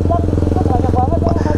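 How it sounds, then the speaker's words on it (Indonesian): A motorcycle engine runs close by with a steady, pulsing drone through the whole short stretch, and people talk over it. "Motor lewat sini, motor nggak boleh lewat situ kalau siang."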